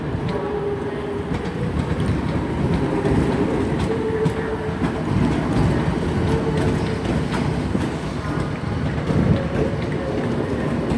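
A ScotRail class 318 electric train pulls out of Glasgow Central, wheels clattering in a steady rolling rhythm over the rails with a faint squeal, close by and continuous with no talk.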